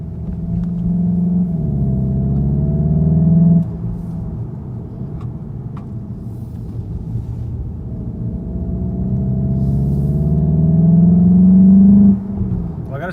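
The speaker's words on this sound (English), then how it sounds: "Accelerated in, braked, went through the corner, accelerated back out of the corner, and felt great." A 2019 Volkswagen Jetta GLI drives through corners, its engine rumble steady and close, swelling as it accelerates in, easing off under braking, then building again out of the bend before dropping away.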